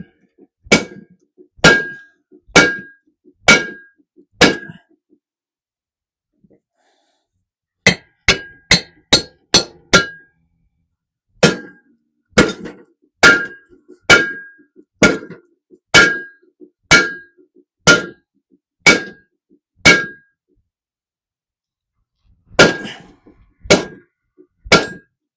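Hammer blows ring out on the metal of a mower being stripped down for a mini mobile cabin build. The blows are sharp and loud and come alone in quick bursts of three to six strikes, with short pauses between them.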